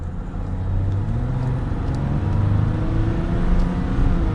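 A 2022 Ram 1500 Limited pickup truck accelerates in a steady, loud rising engine drone heard from inside the cab, with road and tire noise underneath and no other sounds.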